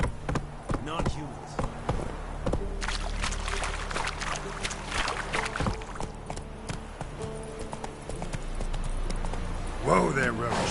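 In The Witcher 3, the horse Roach's hooves clip-clop in a loose, uneven rhythm at close range, under steady talk throughout.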